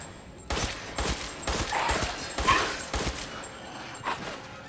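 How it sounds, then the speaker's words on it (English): Gunfire in the survival horror game Resident Evil Village cracks out in a rapid string of shots, roughly two a second, loud and close over faint ambient game sound. "Alright, just keep shooting till they're dead."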